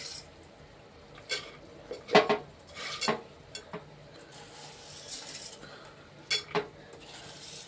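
Soaked green gram being tipped into a pan with green chillies, a few sharp clinks and knocks of a utensil against metal over a quiet background, close by, with no talk.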